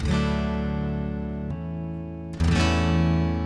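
A Line 6 Variax Acoustic 700 modeling guitar in open A tuning rings out with sustained strummed chords, full and bright, one chord fading before a fresh strum near the end.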